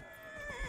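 A horse in the fantasy video game Dragon Age Inquisition gives a short, faint whinny, a thin wavering cry lasting under a second with nothing else over it.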